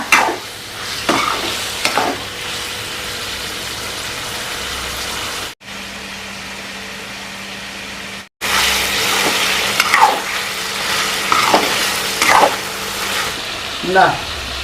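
Goat heart pieces frying in a pan for liver curry, sizzling with stirring scrapes and clatters, broken by a short quiet gap near the middle, with a voice talking over parts of it.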